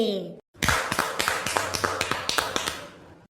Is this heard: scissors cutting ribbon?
no